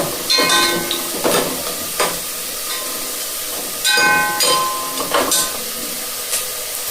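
Mushrooms for biryani roasting in a pan, a steady sizzle with hiss and steam, broken by several louder bursts of scraping and stirring that come and go over the clip.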